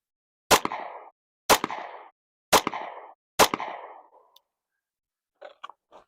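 Four loud pistol shots fired at a target from 5 yards, evenly spaced about a second apart with short decaying echoes, followed by faint clicks.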